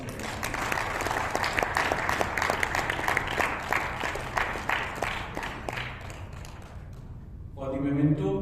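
An audience at a felicitation ceremony claps steadily for several seconds, the applause fading before a voice begins speaking over a quieter room.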